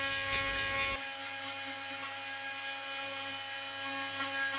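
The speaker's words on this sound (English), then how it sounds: "The AV70 RT 3 Max grout remover will remove grout and adhesive even in the most inaccessible corners." A Bosch GOP 300 SCE oscillating multi-tool fitted with an AVZ 70 RT blade removes grout, giving a steady, close, high buzzing whine that holds throughout after a rougher burst in the first second.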